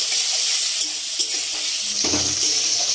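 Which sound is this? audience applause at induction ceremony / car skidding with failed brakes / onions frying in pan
onions frying in pan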